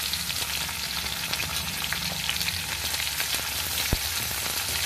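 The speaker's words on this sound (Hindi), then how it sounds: "अब मैं अपने प्याज को थोड़ी देर पकने का वेट कर लेती हूँ।" Chopped onion fries with golden garlic in a pan for egg curry, giving a loud, close, continuous sizzle with constant fine crackling and one brief knock near the end.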